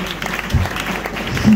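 A congregation at a pastoral ordination ceremony in Kinshasa claps in brief, fairly loud applause, with crowd murmur mixed in.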